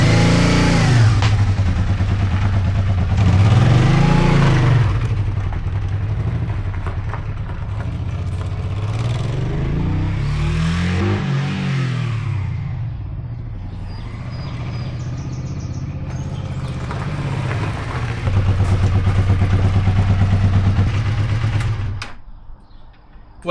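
A 1985 Honda Shadow motorcycle being ridden, its engine rising and falling in pitch through repeated revs and gear changes, loud and steady with wind rush throughout.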